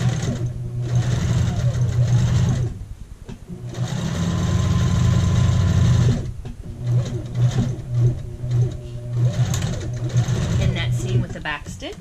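A sewing machine back-stitches on a child's shirt at the neck and shoulders: loud, close bursts of rapid mechanical whirring that pause and restart, with a voice speaking at times.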